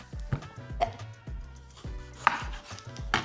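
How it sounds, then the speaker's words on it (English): A knife chops tomatoes on a cutting board in about seven firm, separate thuds, close and fairly loud with short pauses between cuts. "This part of the tomatoes, and same with the onions, just cut them in half."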